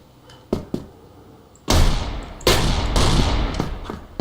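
Sharp gunshots: a couple of quick cracks, then heavy sustained bursts of rapid fire, loud and close.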